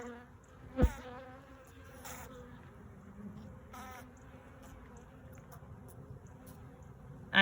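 Honeybees at a hive feeding on a brood patty hum in a faint, steady buzz, with a couple of brief louder knocks and rustles.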